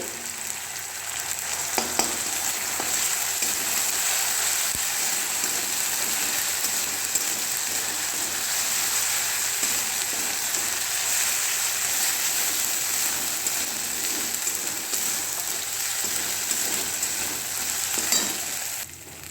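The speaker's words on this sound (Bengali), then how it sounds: "দেখো, ফ্রাই হয়ে গেছে মশলা, আদা লঙ্কা বাটাটা" Spices with ginger and chili paste plus asafoetida fry in hot oil in a pan, giving a steady, close, rain-like sizzle that continues evenly with occasional light stirring clicks.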